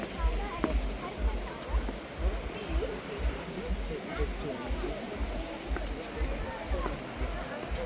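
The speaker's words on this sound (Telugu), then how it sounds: "ఇదే భాక్సునాగ్ వాటర్ ఫాల్ మాన్సూన్ టైంలో అయితే బాగుంటుంది" Bhagsunag waterfall near Dharamshala, a steady broadband rush of falling water heard from a moderate distance, with a person talking over it and a faint babble of other visitors.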